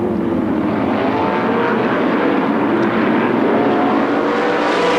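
A pack of NASCAR Modified race cars roars loudly at Waterford Speedbowl on a restart, a thick continuous engine drone with rising revs that fills the whole stretch.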